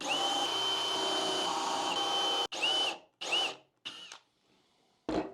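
Power drill boring peg holes into wood for a Shaker-peg hat rack: a steady, loud whine that runs for a couple of seconds, then three short bursts of spinning and a final brief whir after a pause.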